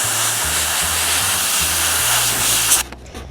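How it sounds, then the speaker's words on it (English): An aerosol spray can steadily hisses a broad patch of blue paint onto an orruk miniature's armour, one continuous loud close spray that cuts off near the end, with faint rustling afterward. "I'm just spraying a big old patch of blue."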